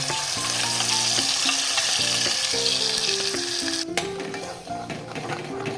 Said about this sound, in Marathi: तेल गरम झालं वाटलेला मसाला